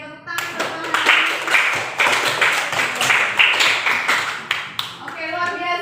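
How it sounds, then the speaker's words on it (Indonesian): A classroom of students claps for a classmate in a steady burst of rhythmic, fairly close handclaps lasting several seconds, with some voices underneath. "Oke, tepuk tangan buat Maharani."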